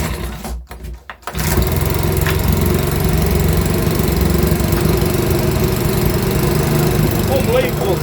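A Makita BHX2500 leaf blower engine, under repair, starts after a brief rattle and settles into a steady, close, loud running drone that continues without a break.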